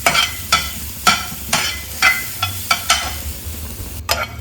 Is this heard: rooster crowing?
no